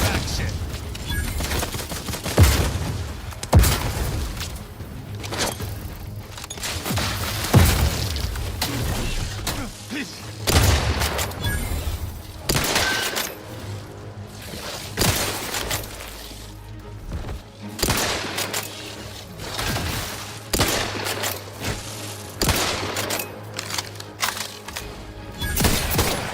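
Grenade blasts and bursts of gunfire in the sci-fi shooter The Outer Worlds 2, with repeated loud booms and rattling fire continuing throughout amid dense game effects and a steady background hum.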